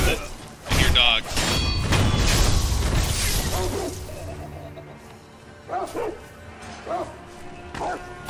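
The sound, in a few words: dogs barking in the video game Sekiro: Shadows Die Twice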